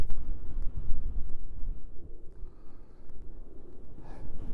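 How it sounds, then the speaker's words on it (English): Strong wind blows outdoors in winter gusts, a loud rumbling buffet against the microphone that swells and eases without any talk. "It's so windy."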